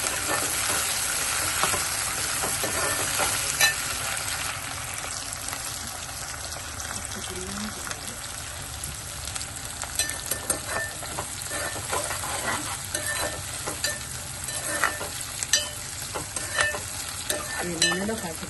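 Onions and mint leaves fry in hot oil in a pan, giving a continuous close sizzle and crackle with occasional stirring scrapes and clinks throughout.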